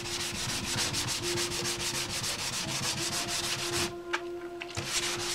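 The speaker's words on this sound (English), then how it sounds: "this is just a rough sanding with 220" Rapid, rhythmic rasping strokes of a 220-grit sandpaper block rubbing back and forth over a motorcycle body during rough sanding, steady and close, with a faint hum beneath.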